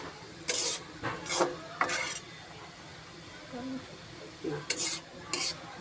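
Onions with salt are stirred in a dry wok with no oil, heard as short, separate bursts of scraping and rustling from the spatula at irregular intervals, close and fairly quiet, with faint sizzle between strokes.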